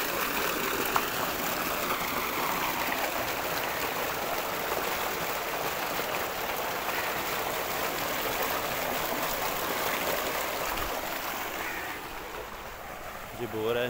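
Steady rushing water pours continuously from a solar-powered borewell pump with a 5-inch outlet, a broad constant wash of flow that stays even throughout and dips slightly near the end.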